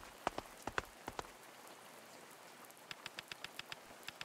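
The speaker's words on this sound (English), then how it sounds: "The rain is getting heavier." Rain falls in the video game A Space for the Unbound, heard as sparse, crisp droplet ticks and taps in an irregular patter over a faint hiss, with no voices.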